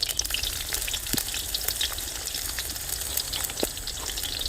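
Crushed garlic frying in hot peanut oil, a steady close crackling sizzle with scattered sharp pops throughout, no voices over it.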